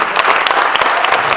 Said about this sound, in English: So this is a clap for all the parents dealing